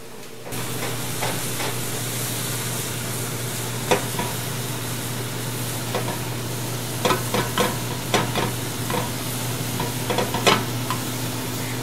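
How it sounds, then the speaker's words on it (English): Ground turkey browning in a pot: a constant loud sizzle and frying hiss, with scattered scraping clicks as the meat is turned over and over, close and continuous. "You just stand over the pot, keep turning it till it's gotten brown"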